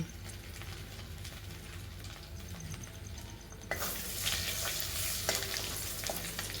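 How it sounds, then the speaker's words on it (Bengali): Dried red chilli, a bay leaf and then nigella seeds sputter in hot oil in a pan, a soft steady sizzle that jumps to a louder, brighter crackle partway through as more spice hits the oil. "তেলটা গরম হয়ে গেলে আমি একটা শুকনো লঙ্কা একটা তেজপাতা ফোড়ন দেব"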